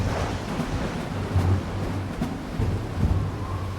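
Rough wind and crashing surf roll on continuously, with low rumbling surges rising and falling like a storm at sea.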